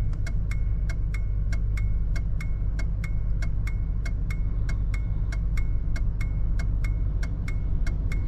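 The turn indicator on the dashboard of a 1983 Lincoln Continental MK VI ticks in a steady, even rhythm, each click crisp and close over the low hum of the idling car.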